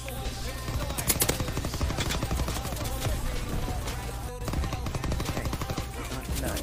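Dense, continuous gunfire fills a World War II video game, with rapid automatic bursts and heavy explosive booms layered into an unbroken loud battle din.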